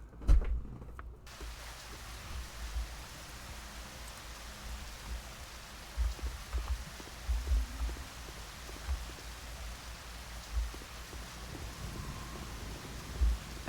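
Steady rain falls in a dim outdoor area of the Half-Life fan game Hunt Down The Freeman, a soft continuous hiss at moderate volume, with scattered low thuds and drips running through it.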